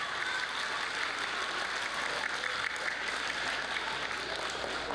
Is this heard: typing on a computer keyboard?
no